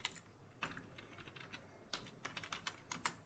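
Irregular clicks of a computer keyboard as a command is typed into a command prompt, close and quiet, in short runs and single taps with no talk.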